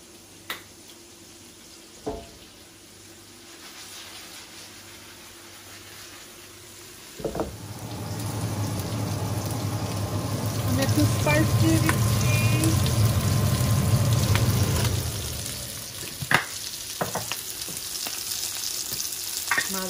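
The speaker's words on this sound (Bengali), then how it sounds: "মাছ ভাজা হয়ে গেছে" Boal fish fries in a pan. A faint background gives way around the seventh second to a loud, close sizzle that lasts about eight seconds before dying down, with occasional sharp clicks and clatters.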